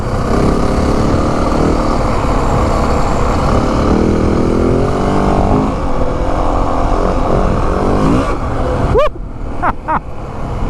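A 2025 Yamaha WR450F dirt bike roars loudly and continuously with wind rush as it is ridden on trail, engine pitch shifting with throttle, then a few sharp whooshes near the end.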